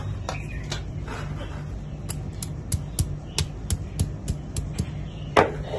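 Whole ginger, coriander and cumin ground together into a spice paste, heard as a steady series of muffled knocks and scraping strokes at close range over a low background hum.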